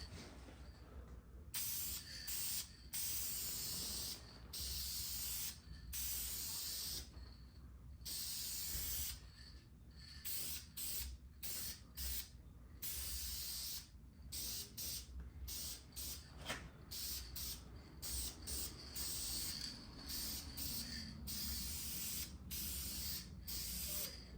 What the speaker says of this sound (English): So I'm gonna be spraying that bottom here.